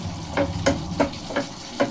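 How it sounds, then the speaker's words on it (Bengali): Kasuri methi is stirred into a sizzling egg curry masala in a pan, with five evenly spaced scraping strokes over a low, close frying hiss. "দিয়ে দিলাম একটু কসুরি মেথি, দিয়ে এটাকে উপরে মিশিয়ে নিলাম"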